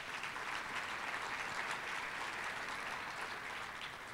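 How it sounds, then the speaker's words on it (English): An audience at a business awards ceremony applauds for a construction company, a steady dense wash of clapping that holds at an even level for the whole stretch with no voices over it. "I think they should get a round of applause for that beautiful building."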